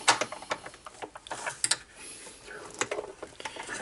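Screws being loosened from the cabinet of a Sharp GF-555 boombox: close, irregular small clicks and ratcheting ticks from a screwdriver turning, with brief scraping bursts and no speech.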